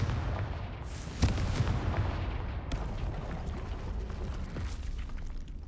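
The Confringo blasting spell goes off in Hogwarts Legacy with a single sharp, booming blast, followed by a rumbling, crackling tail that fades slowly under steady background game ambience.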